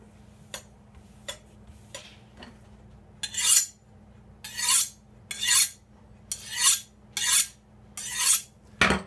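Kitchen knife being sharpened, several clicks and light taps giving way to a run of loud, rhythmic rasping strokes of steel on a sharpener, close up, with no talk.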